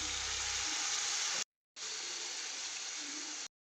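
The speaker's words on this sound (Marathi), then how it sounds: "यामध्ये थोडं पाणी टाकू" Bitter gourd sabzi sizzling loudly in a pan as water is added, a steady broadband hiss that cuts off briefly, then resumes, continuing evenly without speech.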